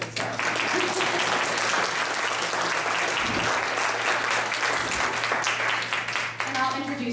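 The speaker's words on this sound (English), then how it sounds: "Now would be an okay time to applaud before we start." An audience at a state representative candidates' debate breaks into steady, dense applause that holds for several seconds before tapering, with a low hum beneath and a voice starting to talk at the end.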